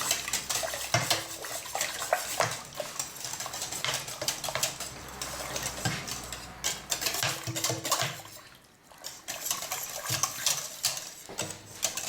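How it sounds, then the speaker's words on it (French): Cannelé batter being stirred in a bowl, giving a steady run of clinking, scraping utensil-on-bowl sounds with faint liquid sloshing, close up and without any talking. "Et je continue à tourner pour tout mélanger."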